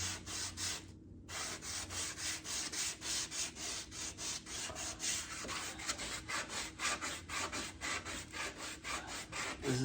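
Hand wet sanding of paint on a Corvair car body, a rhythmic back-and-forth rasping rub of about two strokes per second, close and steady throughout with no talking.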